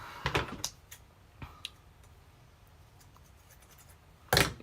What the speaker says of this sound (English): See how dull my scissors are?